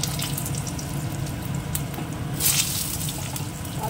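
Potatoes frying in oil with dry red chillies and cumin give a steady, close sizzle and hiss throughout, with a brief louder spatter partway through and no talk.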